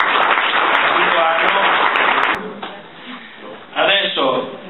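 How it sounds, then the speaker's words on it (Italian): Audience applause at a 2010 school scholarship award ceremony in Resana, a steady dense wash of clapping for a couple of seconds that thins out, then a brief renewed burst near the end. "gli facciamo lo stesso un applauso"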